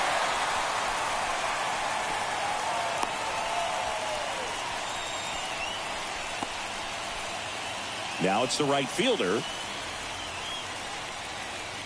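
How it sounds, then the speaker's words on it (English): Steady rain hisses over a ballpark in MLB The Show 24 during a Yankees versus Guardians game, a continuous broadband wash under the crowd, while a commentator speaks briefly partway through. "This rain is not letting up."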